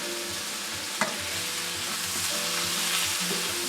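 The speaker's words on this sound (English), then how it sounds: "Mix the spinach around well." Spinach is stirred in a hot pan, giving a continuous close sizzle with a sharp utensil scrape near the start and soft rustling as the leaves are moved around.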